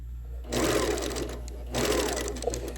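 A sewing machine stitches a quilted kite wall hanging in two steady runs of fast, even stitching, pausing briefly in between, heard close with no talk over it.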